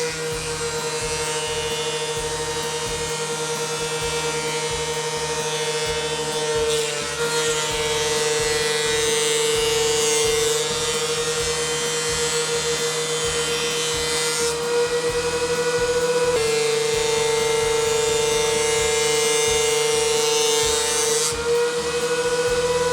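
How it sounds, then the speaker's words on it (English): Wood strips cut from a tree branch run continuously through a planer, a loud, steady, harsh whine with a droning hum that surges briefly as each strip feeds through, with no talking. "I'm just going to run them through the planer because I want to make sure everything is an equal thickness"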